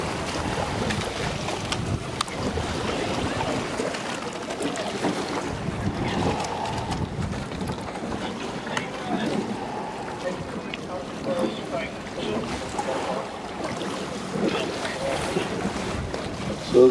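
Double sculls racing on open water, heard as a continuous wash of water and gusting wind noise across the microphone, with a race commentator talking over it throughout.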